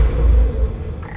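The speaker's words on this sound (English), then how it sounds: "Catachan barking toad, sir." A fictional Catachan barking toad gives a deep, loud, close croak that rumbles low and steady for about a second before fading under a faint higher tone.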